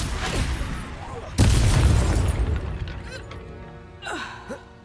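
In the video game Hogwarts Legacy, a Confringo fire spell explodes with a sudden loud boom that rumbles and slowly fades. Voices sound before and after the blast.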